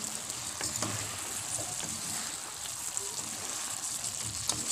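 Pinakbet vegetables sizzle steadily in a hot pan, with a soft scrape of stirring now and then and faint speech in the background.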